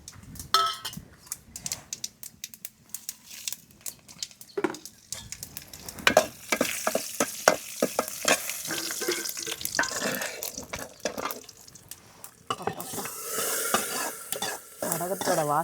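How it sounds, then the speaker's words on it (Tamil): Greens (keerai) tempered with vadagam fry and sizzle in a pan, with busy stirring, ladle scrapes and clinks against metal over a continuous crackling hiss that swells louder toward the end. "கீரைக்கு வடகம் சேர்த்து தான் தாளிச்சிருக்கேன்"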